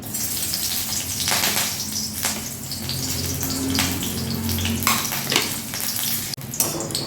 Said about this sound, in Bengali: কড়াতে সাদা তেল দিয়ে দিয়েছি আর একটা লঙ্কা এমনি দিয়ে দিচ্ছি